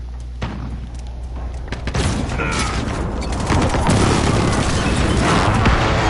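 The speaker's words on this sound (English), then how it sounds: "Enemy precision airstrike." Precision airstrike explosions in Call of Duty: Modern Warfare, a sharp thump followed by a swelling, sustained roar of heavy blasts and rumbling debris, loud and close with a voice beneath.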